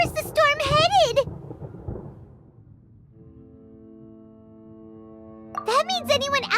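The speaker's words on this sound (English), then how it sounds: "Paimon hears thunder!" Low thunder rumbles through a storm in Genshin Impact, swelling and fading in the gap between bursts of character voices, with a soft tonal hum taking over as it dies away.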